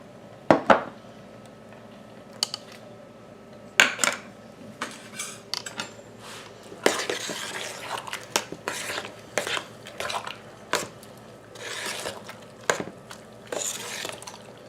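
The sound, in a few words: stirring tomatillo salsa in a pot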